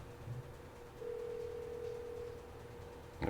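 A telephone gives a single sustained ring tone lasting over a second, faint against a low hum, with no voices.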